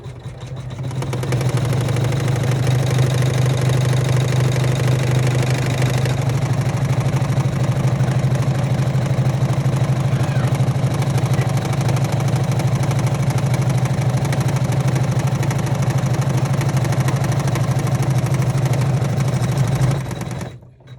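An embroidery sewing machine runs the tack-down stitching on a bag in the hoop, a steady, rapid mechanical hum and chatter that goes on for about twenty seconds at an even pace with no voices.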